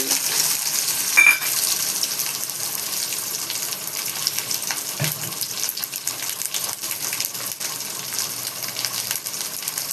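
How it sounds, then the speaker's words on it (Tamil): Mustard seeds and onion fry in hot oil, giving a steady, fairly loud hiss with crackles and one brief sharp pop near the start, no talking, for a Chettinad mutton gravy. "கடுகு போட்டுக்கலாம் வெங்காயம்"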